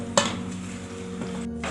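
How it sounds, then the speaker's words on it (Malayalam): Fish being added to pickle gravy in a pan and stirred, a sharp clink of a utensil at the start followed by soft scraping and bubbling, close, with no talking. "ഇനി നമുക്കിത് ഈ ഗ്രേവിയിലേക്ക് ഇട്ട് കൊടുക്കാം"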